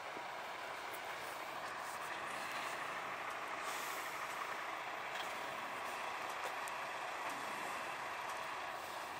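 Heavy trucks roll past at motorway services near Stirling in Scotland, a steady broadband traffic roar with brief hissing bursts of air brakes, continuous throughout with no talking.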